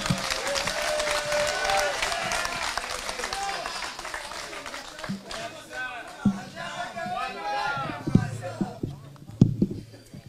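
A crowd claps and cheers loudly at a DCP political rally launching by-election candidates in Kenya. The dense applause runs steadily through the first half, then thins, and someone speaks over it.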